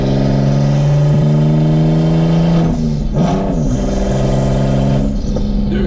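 A high-mileage BMW engine at 215,000 miles revs hard and close, with exhaust flames shooting out, its sustained loud droning tone rising and falling as the throttle blips, with a dip and surge midway.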